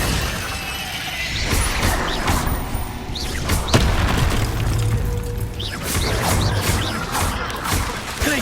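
Bombarda and Confringo blast spells in Hogwarts Legacy, heard as repeated loud booms and shattering crashes with debris and thuds that come in bursts over game ambience, with no voices.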